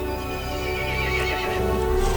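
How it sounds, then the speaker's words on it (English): A horse in the video game Resident Evil Village neighs with a long, loud whinny, with faint hoof clip-clop and a steady ambient game drone beneath. "The horse grew angry and summoned the other monsters."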